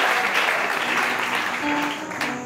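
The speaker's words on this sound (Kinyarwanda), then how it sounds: "amashyi menshi cyane amashyi menshi" A crowd applauding at a gathering, dense steady clapping close and loud that eases slightly toward the end, with a voice faintly beneath it.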